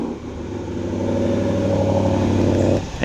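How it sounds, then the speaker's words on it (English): A 2023 Ford F-150 Raptor R idles after a remote start, its dual exhaust giving a steady, loud, deep rumble that holds even for about three seconds before a brief rise at the end. "the dual exhaust is on both sides, which we can take a listen to because it has remote start."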